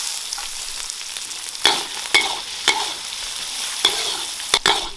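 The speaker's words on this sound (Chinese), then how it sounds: "那个腊肉壳壳炒起，把那个油给它煸出来" Diced cured Sichuan pork rind stir-fried in a wok to render its fat, a constant crackling sizzle broken by sharp spatula scrapes and taps every half second or so, close and clear.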